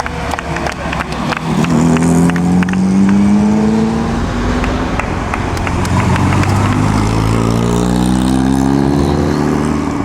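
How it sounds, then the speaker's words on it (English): An 8-cylinder classic Alfa Romeo race car runs in the Mille Miglia through an Italian town. Its engine revs loudly and climbs through the gears up close, with rising and falling pitch sweeps and sharp crackles. "8-cylinder Alfa Romeo."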